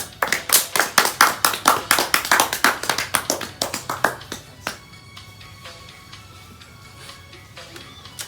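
A talk-show audience bursts into lively clapping to welcome the final guest star; dense, loud applause for about four seconds, then it thins to a few scattered claps and fades into quiet room tone.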